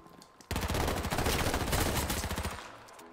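Gunfire in the online survival game H1Z1 starts abruptly and keeps going as a loud, dense burst of rapid automatic shots, close and harsh, then fades slightly toward the end.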